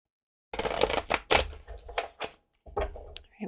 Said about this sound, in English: one more deck to shuffle.